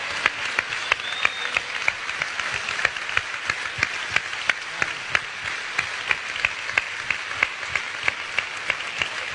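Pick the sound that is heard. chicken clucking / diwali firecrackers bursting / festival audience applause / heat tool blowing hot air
festival audience applause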